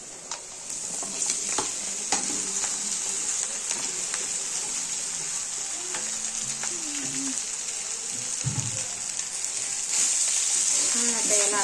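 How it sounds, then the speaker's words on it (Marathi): Poha and peanuts are tipped into a hot tempering and stirred, giving a continuous close sizzle with scraping and clinking of the spoon against the pan. "आता आपण हे पोहे आणि शेंगदाणे एकत्र घालायचे"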